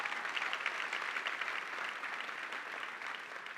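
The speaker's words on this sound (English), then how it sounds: "give them a round of applause" A large audience at the Atlassian Summit U.S. 2017 product keynote applauds steadily, a dense, distant wash of clapping that carries on evenly with no speech over it.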